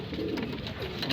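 Pigeons coo steadily at close range in a loft, a continuous low warbling murmur with no talking.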